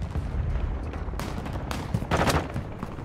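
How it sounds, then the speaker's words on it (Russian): Dense, rapid gunfire and bursts of automatic fire in the shooter game Call of Duty Warzone 2.0, loud and close, with sharp volleys swelling over a constant rumble of battle. "Я здесь под обстрелом!"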